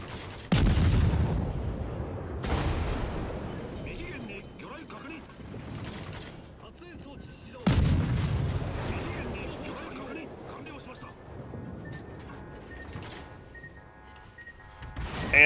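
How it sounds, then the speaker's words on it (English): Warship guns firing high-explosive shells in the naval game World of Warships, two heavy booming salvos several seconds apart, each fading into a long rumbling tail, with mechanical game sounds between. "I'm gonna hurl HE into him and try to ruin his day."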